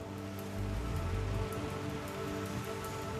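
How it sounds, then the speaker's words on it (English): Steady, dense hiss of heavy rain pouring down on São Paulo, Brazil, with a deeper rumble swelling briefly near the start, continuous throughout with no voices. "rains pound Brazil's largest city"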